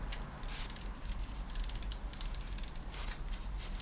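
A ratchet wrench tightening a bolt on a car engine, giving a continuous close clicking and grinding of the pawl mechanism, moderately loud with no talk over it.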